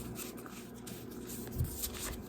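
A deck of cards is shuffled in a quiet room, a soft continuous riffling and rustling with a couple of brief sharper flicks near the end.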